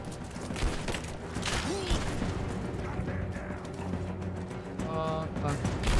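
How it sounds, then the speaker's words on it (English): A grenade explodes during a firefight in Tomb Raider-style video game action, a muffled boom in a dense mix of gunfire and mechanical game noise, with players talking over it throughout. "That's a grenade."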